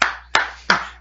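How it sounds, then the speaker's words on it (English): Three sharp hand claps, evenly spaced and close, each fading quickly, with no voices. "Clap your hands,"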